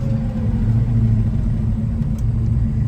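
A 1970 Chevrolet Chevelle SS 454 V8 rumbles loudly and close, its deep steady engine drone holding even with no clear rise in revs, alone without talk.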